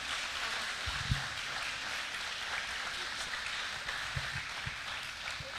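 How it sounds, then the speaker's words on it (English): A church congregation gives a graduating member a round of applause, steady and soft-sounding at a low level, with a few scattered louder claps or knocks. "So let's give Heidi a round of applause,"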